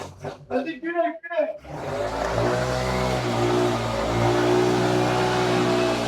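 A car engine is revved to cook food on its exhaust at an abandoned urbex site. After a few seconds of talk, a close, steady engine drone rises and holds with a slight swell in revs.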